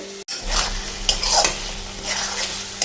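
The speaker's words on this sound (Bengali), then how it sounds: "এখন আমি ঝিঙ্গেগুলো একটু ভেজে নেব মশলাগুলোর সাথে" Ridge gourd fries with spices in a pan, a loud, close sizzle broken by scraping spoon strokes as it is stirred, with no talk.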